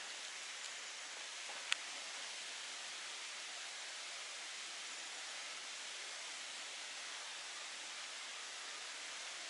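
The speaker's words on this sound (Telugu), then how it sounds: "ఇక్కడ ఎక్కడో వాటర్ ఫాల్ ఉంది" Steady broadband rush of a waterfall somewhere nearby on a trip around Haridwar, continuous and even for the whole stretch, with one brief sharp click near the start and no voices.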